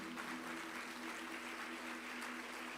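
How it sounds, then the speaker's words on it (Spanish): A church congregation applauds during a sermon, a steady, even wash of clapping that holds for the whole stretch at a moderate distance, with no voice over it. "Dale un fuerte aplauso a nuestro Dios."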